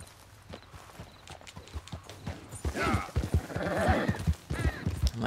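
Hooves clip-clop steadily as a horse is ridden at night in Red Dead Redemption 2, with a brief whinny-like sound and a voice talking over the hoofbeats.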